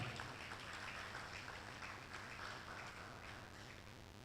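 A round of applause at a university employment clinic event, a faint, continuous patter of many hands clapping from a seated audience, sustained evenly for a few seconds without speech.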